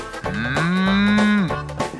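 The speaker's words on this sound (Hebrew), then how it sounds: "תעזור לי להחזיק את הפרה" A single long cow moo from a cattle barn, loud and close, a sustained lowing call rising then held steady for about a second before trailing off, with no talk over it.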